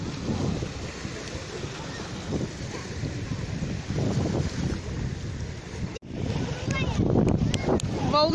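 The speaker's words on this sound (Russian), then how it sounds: "Волна поднимается," Sea waves roll and wash onto the shore of Bakal Spit in a steady rush, with wind buffeting the microphone throughout.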